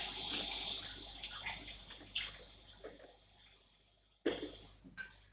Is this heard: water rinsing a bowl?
yes